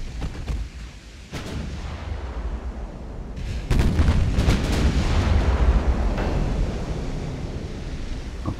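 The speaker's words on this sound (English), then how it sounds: "the Albany's opening fire" Warship guns booming across open water in the naval battle game Ultimate Admiral: Dreadnoughts, a few deep reports over steady wind and surf noise, with a heavier salvo partway through.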